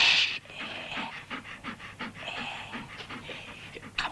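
A very large dog pants steadily up close, quick rhythmic breaths repeating throughout with a faint whimper at the start.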